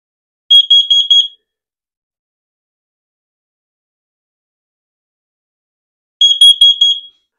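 A carbon monoxide detector alarm sounds in two short bursts of rapid, piercing electronic beeps, loud and close, separated by about five seconds of silence.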